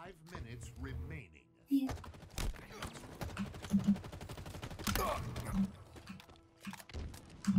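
Pistol fire in the shooter game Halo Infinite: repeated sharp shots crack in quick clusters across the stretch, mixed with other game effects and voices in the background.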